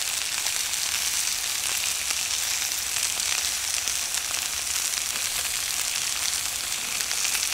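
Steak sizzles steadily in a pan over an outdoor fire, a bright, continuous frying hiss that stays loud and even throughout, with no talk.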